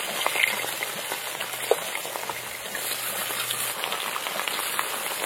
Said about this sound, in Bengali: এই মাছ কিন্তু খুব তাড়াতাড়ি ভাজা হয়ে যায়